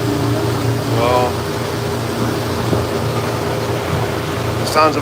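A steady low engine drone runs throughout from a Mercury outboard motor close behind on a boat in Panama, with faint voices and a brief chirp near the end.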